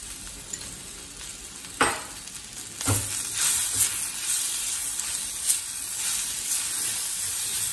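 Eggplant cooking in a pan with salt and turmeric for baingan raita, a constant hissing sizzle with a few louder stirring scrapes and bursts close by.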